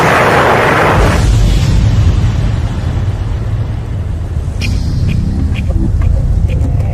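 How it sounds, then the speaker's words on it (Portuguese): A large explosion from a meteor striking the ground, a loud broad roar that bursts at the start and rumbles on heavily, with sharper cracks and debris-like pops later. "e quando atingisse o solo haveria uma grande explosão."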